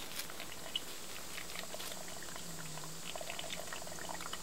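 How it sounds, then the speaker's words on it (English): Water pours steadily from a ram pump stand pipe, fed by a small pump below, a continuous broadband gush with bubbling and splashing throughout, fairly close and even in level with no talk. "It's actually pumping a lot of water from that tiny pump down there."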